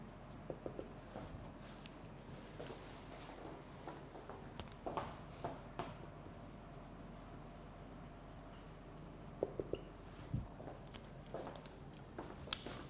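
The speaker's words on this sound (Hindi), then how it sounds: "मैं लिख भी देता हूँ आपके लिए इसको।" Handwriting during an English lecture: a pen scratches and taps in short, irregular strokes, close and quiet, with no talk.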